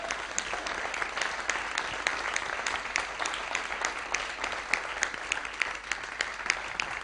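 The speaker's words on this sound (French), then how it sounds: "Merci à toi, on l'applaudit bien fort." At a local business event in Tours, an audience gives a guest a round of applause, continuous moderately distant clapping with scattered sharper claps standing out.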